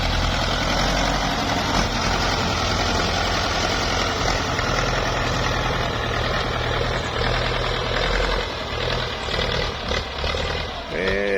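A Ford 6610 single-axle tractor engine idles with a steady low rumble and rough knocking throughout, loud and close, with faint background noise.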